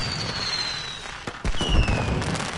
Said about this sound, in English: Oh, they're fireworks!